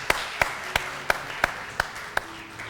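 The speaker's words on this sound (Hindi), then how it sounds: "बहुत सारी तालियां इनके लिए।" A studio audience claps for a 10-year-old girl invited onstage at a televised debate show: about eight sharp, evenly spaced claps in a steady rhythm, moderately loud over a quiet room, with no talking.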